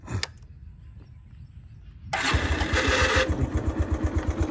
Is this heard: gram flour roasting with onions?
no